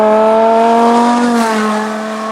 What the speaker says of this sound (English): That's definitely a V10 scream.